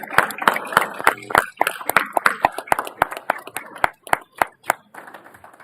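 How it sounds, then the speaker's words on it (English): Scattered hand clapping from a small audience at a city council meeting, a few distinct sharp claps repeating unevenly and thinning out toward the end, close and fairly loud. "So how about a round of applause for them?"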